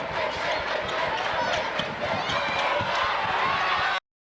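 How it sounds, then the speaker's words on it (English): Riverton fans in a gym at a 2004 girls' high school basketball quarterfinal against Hampshire, a loud, steady crowd roar with shouts and sneaker squeaks, cut off abruptly at the end. "The Riverton crowd reacting to the defense of Jessica Gobert."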